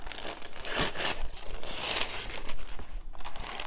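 A sheet of paper is folded in half for a Valentine's heart painting, giving close, crisp crinkling and rustling in uneven bursts, with no speech.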